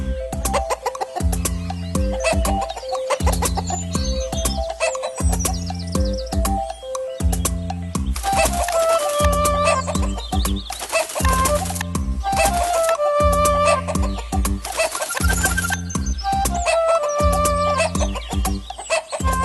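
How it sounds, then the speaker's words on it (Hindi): Hens cluck repeatedly in a steady, rhythmic pattern, loud and close, with a stylized, musical quality. "उसने उस वक्त अपनी झोपड़ी के सामने एक मुर्गी के चिल्लाने की आवाज सुनी।"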